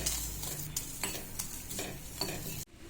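Tulsi (holy basil) leaves being sautéed in a pan for a home cold remedy, with a steady sizzle and repeated scraping stirs of a spoon against the pan, close and continuous before stopping abruptly near the end.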